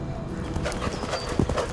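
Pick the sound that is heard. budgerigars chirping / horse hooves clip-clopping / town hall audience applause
horse hooves clip-clopping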